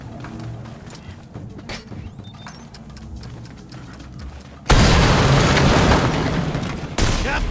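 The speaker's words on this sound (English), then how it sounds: "PIGSY'S got himself a swine bomb." A swine bomb blows up in an Enslaved DLC cutscene. Clanking and mechanical rustles lead up to a sudden loud, sustained explosive roar, followed by a second blast near the end.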